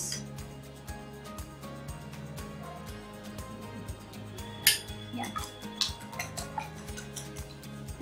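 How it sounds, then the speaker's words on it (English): Faint, rhythmic ticking and light clinks of a utensil against a bowl while homemade hair conditioner with sesame oil is stirred, over a low steady background hum. "I will be mixing all of these ingredients together."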